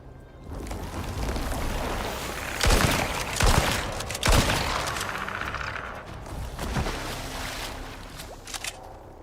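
Shotgun blasts in the video game Icarus, a few loud sharp booms spaced over a rumbling, windy background, close and with no talk.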